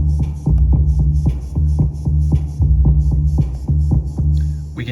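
A drum machine loops a shortened step sequence, a tight repeating thump of kick and hits in a steady rhythm, loud and close with no talking.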